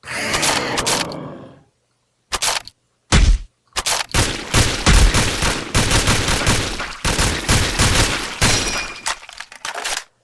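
Rapid bursts of gunfire from a weapon in the video game SAS 3, loud clattering volleys broken by short silences, with sharp cracks and mechanical clanks between strings of shots.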